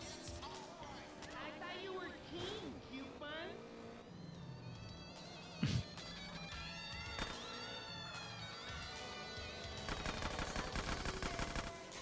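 Gunfire in GTA San Andreas, sharp shots scattered across the clip with one loud close crack midway and a denser burst near the end, under game noise and a voice talking.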